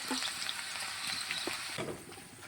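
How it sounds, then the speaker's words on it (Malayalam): Okra (ladies finger) shallow-frying until crisp in oil on a stove: a soft, steady sizzle with a few brief stirring knocks, fairly quiet and close. "ഇപ്പോൾ നമ്മൾ അടുപ്പത്തിട്ട വെണ്ടയ്ക്ക നല്ല ക്രിസ്പിയായിട്ട് ചോന്ന് വന്നിട്ടുണ്ട്"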